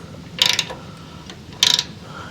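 Ratchet wrench tightening a bolt while installing a rollover valve on a CJ5 Jeep: two short, close bursts of rapid metallic clicking separated by a pause, no talking.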